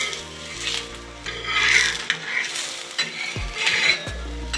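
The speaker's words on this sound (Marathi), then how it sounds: "आणि दोन्ही साईडनी छान मस्त खरपूस भाजून घ्यायचे" Coriander thalipeeth fries in oil on a pan, giving a soft sizzle with scraping and turning sounds from a spatula against the pan, close and fairly loud, with no talking.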